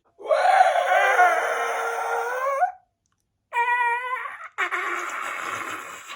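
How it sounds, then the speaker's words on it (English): The eerie pod-people scream from the 1978 Invasion of the Body Snatchers, a shrill, harmonic, wailing shriek in three bursts: one long cry, a silence, then two shorter cries. "I can't do the pod people scream, but that's basically how you know that they're around."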